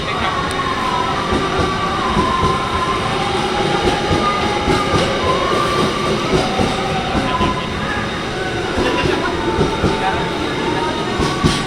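An Indonesian KRL commuter train rolls by loudly and close, a continuous rumbling roar with rhythmic clacking of wheels over track joints, sustained for the whole stretch.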